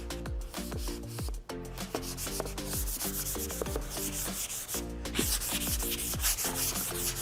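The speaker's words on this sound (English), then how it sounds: "Then sand down the face again." A sanding sponge rubs across a wooden door in quick, repeated back-and-forth strokes, a steady close scratchy rasping with a brief pause partway through.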